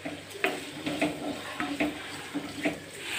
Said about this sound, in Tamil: நம்ம கட் பண்ணி வச்சுருக்க வெஜிடபிள்ஸ் எல்லாத்தையும் அந்த எண்ணெயில் போட்டு வதக்கி எடுத்துக்கணும்